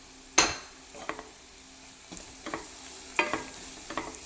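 Meat masala frying in a pan for beef roast, with soft sizzling under sharp scrapes and clinks of a spoon stirring at irregular intervals, close and fairly quiet.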